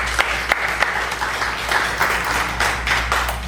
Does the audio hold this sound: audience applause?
yes